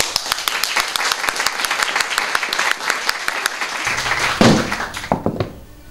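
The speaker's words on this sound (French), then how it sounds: "on va d'abord applaudir" An audience at a French theatre ceremony applauds in a dense, steady patter of many hands, loud and continuous, thinning out into a few scattered claps before fading at the end.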